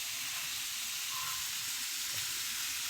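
Gorengan, Indonesian fried snacks, sizzle in hot oil, a steady close hiss throughout.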